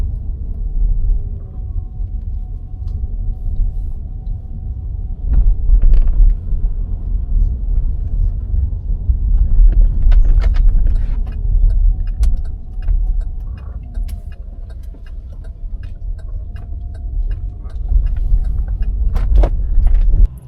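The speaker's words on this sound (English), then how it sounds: "Whoa, this traffic's gnarly." Car interior during a morning rush-hour drive through heavy downtown San Francisco traffic: a steady low engine and road rumble with faint clicks and knocks, close and continuous.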